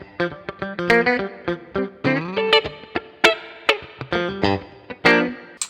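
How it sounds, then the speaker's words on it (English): A funk tone on electric guitar runs through a Fractal FM9 with both pickups on, the neck pickup coil-tapped and a boost engaged. It plays as a stream of crisp, punchy staccato notes and chord stabs with a slight effected shimmer, loud and up front. "If I want to do a funk thing, maybe I'll go to this, both pickups, maybe I'll coil tap the neck and I'll hit the boost"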